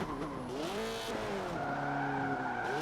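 Tires squealing as a car drifts through a hairpin in the racing game Forza Motorsport 7, a sustained shifting screech over engine tone, sliding in pitch and continuing to the end with no talking.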